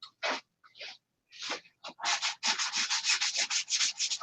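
Hand sanding with sandpaper over fillets, close and loud: a few scattered rasping strokes at first, then a fast, regular back-and-forth scrubbing rhythm.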